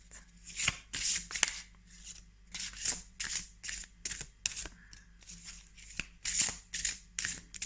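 Tarot cards being shuffled by hand in repeated quick riffles and slides, a crisp, close series of bursts separated by brief pauses.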